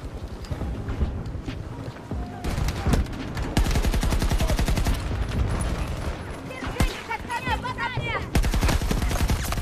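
Rapid automatic gunfire from the Battlefield 2042 video game rattles in dense bursts, with sustained sprays, scattered shots and other combat effects layered over a loud, continuous battlefield din.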